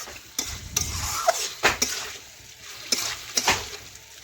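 Chicken cooks in its own juices in a pan while being stirred, a soft steady sizzle broken by several sharp metallic scrapes and clinks of the utensil against the pan, close and fairly quiet.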